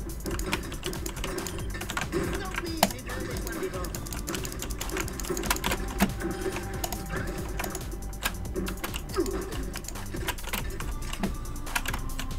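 Keys clatter in fast, uneven bursts on a computer keyboard connected through a UGREEN 4-port USB 3 sharing switch, with steady background noise and occasional louder clicks.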